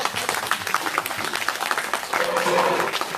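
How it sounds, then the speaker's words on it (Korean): Applause from an outdoor rally crowd at a protest against a THAAD missile deployment in Soseong-ri, South Korea, a dense patter of clapping that swells toward the end, heard at mid distance. "좋은 말 할 땐 박수를 쳐주세요."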